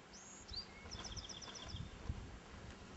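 Birds on a burned mountaintop give faint, distant chirps, a few rising whistles followed by a quick series of high repeated notes over quiet outdoor ambience.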